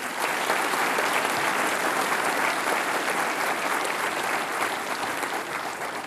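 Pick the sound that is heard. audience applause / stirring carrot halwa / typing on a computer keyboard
audience applause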